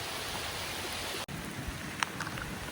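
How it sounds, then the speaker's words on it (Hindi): Rain falls steadily near Gellért Hill in Budapest, a soft, even hiss of drops throughout with a few brief louder patters. "बारिश की आवाज़ आ रही है।"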